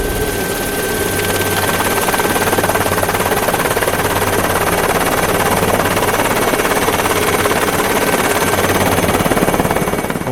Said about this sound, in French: Lundi 19, c'est encore Bébert qui se fait le petit tour de manège en hélico